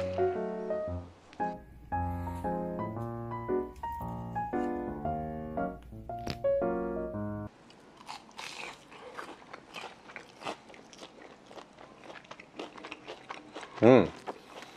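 Fried pork cutlet (tonkatsu) is bitten and chewed after a stretch of upbeat music, with crisp, close crunches repeating irregularly and one louder crunch near the end.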